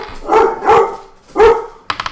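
Several loud, close dog barks come in a rough rhythm, with three sharp, quicker yips at the end.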